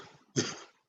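A person imitates a noisy, irritating cough, giving a single short harsh burst that fades quickly.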